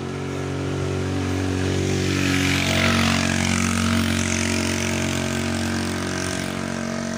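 A motorcycle engine labours steadily up a steep climb on Mt. Bulalo, a loud, close, continuous drone with a slight rise and fall in pitch and no voices over it.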